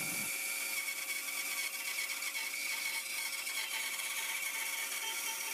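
Loud, continuous buzz of a bandsaw cutting the back and front off a wooden box, steady high-pitched whine with gritty texture throughout, close by, no talking.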